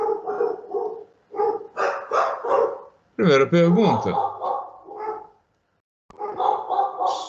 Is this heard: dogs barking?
yes